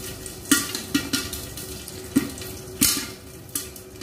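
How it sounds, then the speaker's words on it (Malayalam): Popcorn kernels pop inside a pressure cooker in a home kitchen, giving about six sharp, isolated pops at irregular intervals over a faint background hiss. "കോൺ നല്ലപോലെ പൊട്ടുന്ന സൗണ്ട് കേൾക്കാം."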